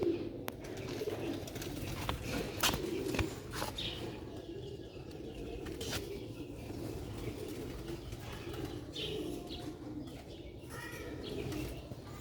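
Sialkoti rooftop pigeons, kept females, coo softly with low burbling calls over a rustling outdoor background, with occasional wing flaps and clicks nearby.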